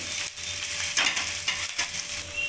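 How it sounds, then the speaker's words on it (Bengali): Chopped onion sizzles loudly in a hot kadai while a spatula stirs and scrapes, the steady frying hiss broken by rhythmic stirring strokes, with no voices. "এবার আমি পেঁয়াজটা যে কুচি করে রেখে দিয়েছিলাম সেটা আমি কড়াইতে দিয়ে দেবো।"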